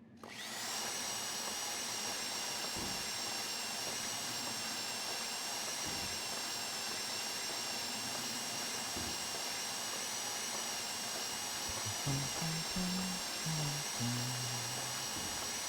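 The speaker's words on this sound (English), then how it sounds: "I wish this drill sound was not so loud." A power drill running in the GTA roleplay game Pacific RP: a steady, loud, high whine that starts abruptly and holds unbroken, with a few low thumps and brief tonal blips underneath toward the end.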